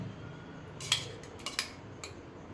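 Metal utensils clink against a plate while fish curry is served for lunch, a few faint, sharp taps spread over a couple of seconds in a quiet room.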